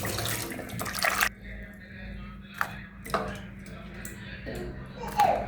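Tap water runs over sliced potatoes in a kitchen sink, a loud rushing stream at first that cuts off, followed by quieter splashes and clinks as the slices are rinsed, with a voice talking over it.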